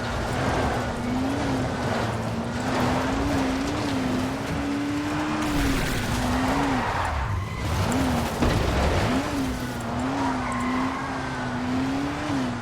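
A repaired vehicle drives in the zombie survival game Dying Light: The Following, its engine holding a steady loud drone with wavering pitch and brief tire skids, continuous and close.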